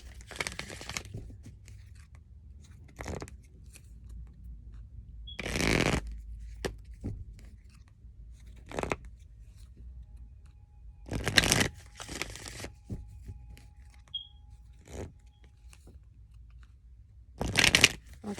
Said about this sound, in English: All right, let me do a shuffle.